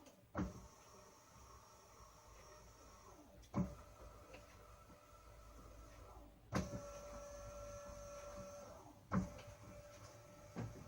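A Gentle Roller felting machine runs at full speed, a low steady motor hum broken by a soft knock or thump roughly every three seconds, quiet and even, with no talking.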